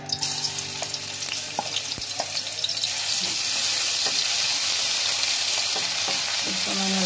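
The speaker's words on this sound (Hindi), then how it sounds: "थोड़ा सा ऑयल गर्म हो जाए, और मैं सबसे पहले इसमें लहसुन डाल दूंगी।" Garlic fries in a little hot oil while making chicken kachori, a close, steady crackling sizzle that swells after a few seconds, with scattered clicks and utensil taps throughout.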